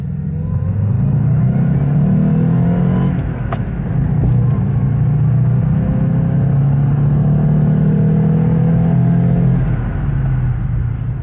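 A cold 1989 Subaru GL wagon, a 5-speed 4WD barn find with 90 horsepower, idles while warming up: a steady, close, low engine rumble that holds an even beat throughout.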